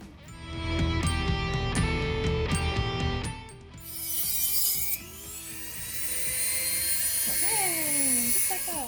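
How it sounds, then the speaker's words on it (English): Dremel rotary tool cutting a seat part for a Datsun 260Z build, rapid ratcheting bursts followed by a high, sustained whine with shifting pitch, close and fairly loud. "now we're gonna move on to the Dremel for the middle square"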